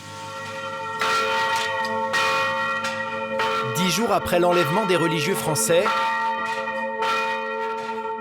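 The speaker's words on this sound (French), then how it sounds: "toutes les cloches du pays sonnent en même temps, à midi pile" Church bells ring together at noon across Haiti, a steady, sustained peal of rich, ringing tones with strikes returning throughout, while a voice speaks over them partway through.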